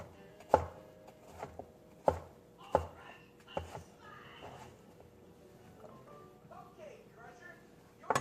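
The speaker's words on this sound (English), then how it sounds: "but after that you would just slice" A knife slices through soft squash on a cutting board, several sharp chops landing at irregular intervals with quieter handling sounds between them.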